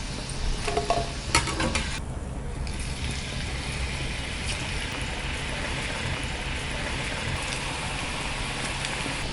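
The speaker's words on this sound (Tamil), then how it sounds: "லோ ஃப்ளேமில் வச்சுட்டு நம்ம ஃப்ரை பண்ணணும்" Bottle gourd bondas frying in oil over a low flame make a steady, bubbling sizzle up close, with a few clinks and stirring sounds near the start and no talk.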